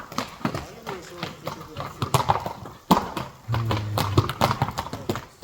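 Hooves of a horse clip-clop on open ground in irregular, fairly close thuds and knocks, with people talking over and between the steps.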